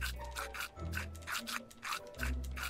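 Brisk, rhythmic bristle scrubbing as a character brushes his teeth in the video game Manual Samuel, with short scratchy strokes and a steady low pulse beneath, fairly close and alone.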